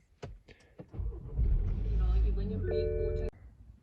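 A BMW X1 car engine starts with a few clicks and rumbles steadily nearby, then cuts off abruptly with a whine.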